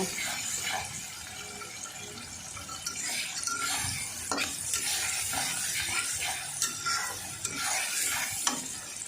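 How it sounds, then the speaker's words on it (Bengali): Whole cumin and goat tripe sizzle in a pan while being stirred, with steady frying hiss and repeated scraping and clinking of a spoon against the pan, close and continuous. "দিয়ে সুন্দরভাবে নেড়ে হালকা ভাজা ভাজা করে নেব।"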